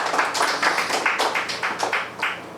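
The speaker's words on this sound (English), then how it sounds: "We should clap for both of them." A handful of people clap together in uneven bursts at Otto's Shrunken Head bar in New York City, a brief spatter of applause with no voices.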